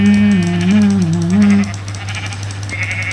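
A Minecraft sheep gives a loud, close, wavering bleat lasting over a second over a steady low hum, then quiets into faint background game sounds.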